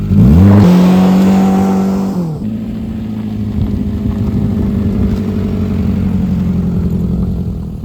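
A Suzuki Super Carry mini truck's small engine revs up loudly and close, pitch rising, then drops as it shifts and keeps pulling steadily under acceleration, with no talking.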